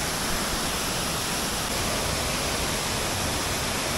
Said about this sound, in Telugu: సో ఇది వాటర్ ఫాల్,